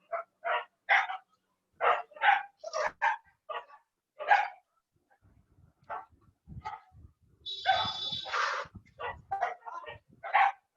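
Several dogs bark repeatedly in irregular bursts, sharp and fairly close, with one higher, longer yelping outburst midway through and only faint low sounds between barks.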